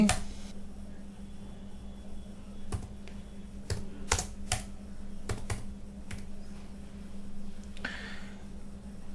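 A computer keyboard is tapped in a few scattered keystrokes and short bursts, close and crisp over a low steady hum in a quiet room.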